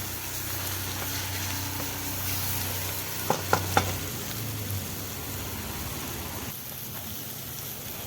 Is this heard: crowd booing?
no